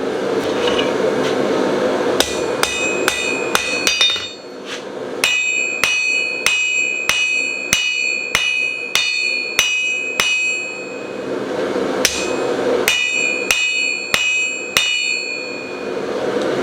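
Steady, ringing hammer blows on hot steel as a taper is forged onto a cold chisel made from a coil spring. Quick, evenly spaced strikes come in two runs with a short pause between them, loud and close.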